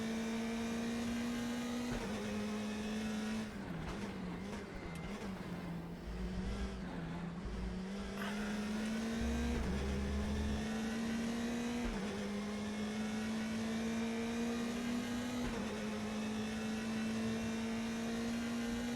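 A touring car engine in RaceRoom drones steadily at high revs with small pitch dips and rises through corners, constant and fairly quiet, with no speech.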